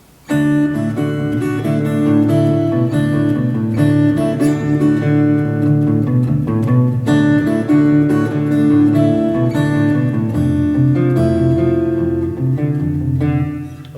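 A guitar plays a flowing melody over sustained chords, steady and fairly loud throughout, with no talking.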